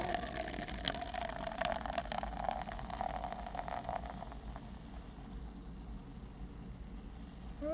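Fizzy water from a tall can pours steadily with a soft continuous hiss and fizz, busier for the first few seconds then thinning to a quieter bubbling, close and fairly faint.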